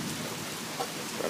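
Heavy rain pours steadily during a morning thunderstorm, a dense continuous hiss of drops on surfaces, loud and close, with a soft low rumble beneath and no voices.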